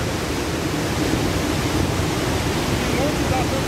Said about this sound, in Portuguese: Estamos aqui na cachoeira Salto das Andorinhas.